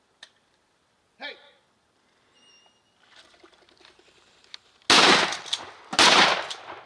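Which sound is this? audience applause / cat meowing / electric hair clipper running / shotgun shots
shotgun shots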